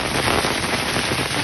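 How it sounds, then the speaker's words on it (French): Dense, steady pelting of hail on a sailboat in Norway, a loud continuous hiss of hailstones drumming on surfaces with no gaps or voices. "La tempête de grêle."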